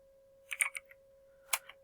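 Typing on a computer keyboard while entering code, heard as a short burst of several quick keystrokes followed by a pause and a second brief cluster of clicks, quiet and close, with a steady faint hum underneath.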